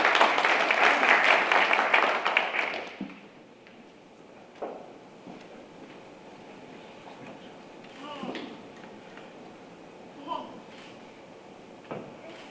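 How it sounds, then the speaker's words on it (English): Applause for students at a school board of trustees meeting fills the opening seconds, a dense spread of clapping from a room that stops abruptly, followed by scattered faint knocks and shuffles. "Let's give them a round of applause."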